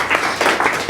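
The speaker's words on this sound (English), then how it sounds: "Let's give him a round of applause." Brief round of applause for a speaker at an academic papers session on learning with MOOCs: a handful of distinct claps in a loose rhythm, fairly close and clear, with no talking.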